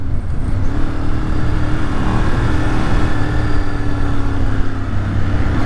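A 2006 Ducati Monster S4RS motorcycle engine runs with a deep, throbbing rumble, steady and close, its low pulsing note holding evenly throughout with no speech over it.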